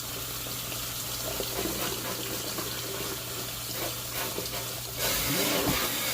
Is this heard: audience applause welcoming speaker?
no